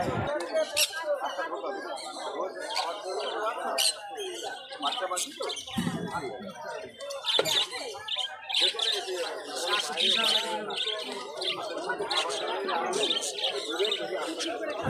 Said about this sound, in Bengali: বাগবাজার গ্যালিফি স্ট্রিট বার্ড মার্কেট, নানা রকম আপনারা বার্ড দেখতে পাচ্ছেন